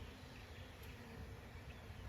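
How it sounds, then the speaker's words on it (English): A swarm of bees near a swarm trap hums in a faint, steady drone throughout, distant and continuous with no voices. "That's a mess of bees."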